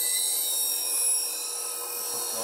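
A woodturning gouge is ground on a bench grinder, giving a steady high-pitched whine and grinding hiss that eases slightly partway through, with no talking.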